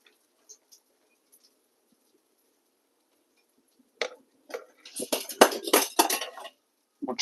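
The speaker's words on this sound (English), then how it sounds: "I want to transfer it to another pan so I can use that one again." Pizza is moved onto another pan after near silence, with a short run of metallic clinks and scrapes of pan and utensils close by.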